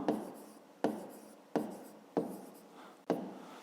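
Pen writing math on paper for a fifth-grade exercise: five bursts of scratchy strokes, each starting sharply and then fading, close and moderately loud with no talk.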